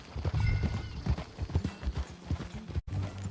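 Horse hooves clip-clop in a quick, steady rhythm on hard ground in Red Dead Redemption 2, close and clear, with a brief break near the end.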